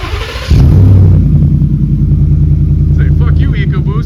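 A Ford F150 with a swapped Coyote 5.0 V8 fires up and settles into a loud, steady, rumbling idle close by, and people talk over the running engine.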